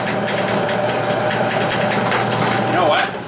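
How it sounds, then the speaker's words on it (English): A power drill runs steadily, drilling pilot holes during a mini trailer build, a buzzing motor whine with a brief pitch wobble near the end, heard under a person talking. "So this is just going to drill my pilot holes again."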